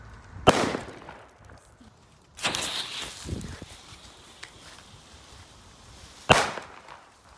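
Colorfunder firecrackers by Pyro Groove Europe going off outdoors at a New Year's Eve celebration: three sharp, loud bangs spaced several seconds apart, the middle one followed by crackling and rumbling debris, over quiet background noise.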